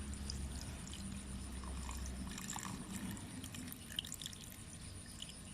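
Water poured onto cloth for sowing kangkung seeds, a steady soft pouring and trickling at close range for a couple of seconds, easing into quieter dribbles and faint drips.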